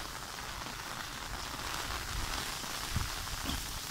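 Steady rain falls outdoors in a rainy-season fishing setting where traps are set in high water, making a dense, continuous hiss and patter with no speech.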